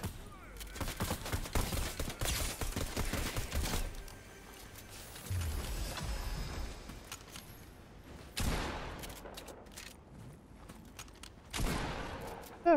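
Bursts of video game gunfire in a Deadpool match, clustered rapid volleys of shots, fairly loud, with quieter gaps between flurries and occasional talk over the top.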